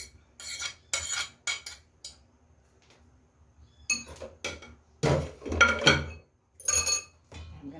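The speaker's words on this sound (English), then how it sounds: "Mix that together. Okay, so we're just going to mix that in." Mashed bananas are stirred into banana bread batter in a bowl, with irregular bursts of spoon scraping and clinking against the bowl, and quiet pauses between strokes.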